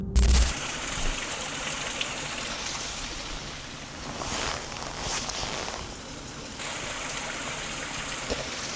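Steady rushing water flows beside a road at night, a continuous broadband wash that swells slightly midway, with a few faint scuffs like footsteps over it.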